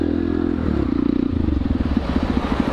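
Motorcycle engine idling steadily up close, a dense low throb with a pulsing rhythm that steps up slightly partway through, with no talk over it.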